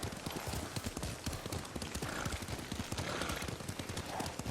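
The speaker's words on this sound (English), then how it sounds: "Lord Sakai taught me to ride a horse" Horse hooves clip-clop in a rapid, steady riding rhythm in the Ghost of Tsushima video game, continuous and moderately near with no talk over them.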